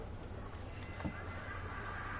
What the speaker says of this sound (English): there was actually a model of a horse running away from the battlefield